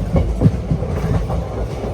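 The Chennai SF Express (12604) runs on the rails toward Chennai Central, heard from inside the coach as a loud, close, rhythmic clickety-clack of wheels over rail joints with a low rumble underneath and no voices.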